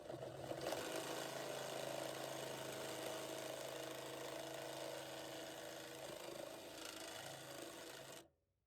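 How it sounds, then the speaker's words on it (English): A power drill whines steadily for about eight seconds as the bit grinds through the metal of a Ford F-150 tailgate, loud and close, then cuts off abruptly. "I'm going to run the drill bit through fast so that way it kind of cleans it up"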